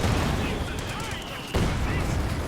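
Tank cannon fire and battle noise in Company of Heroes 2, a dense wash of explosive booms and rumbling that drops briefly then bursts loud again, continuous and close.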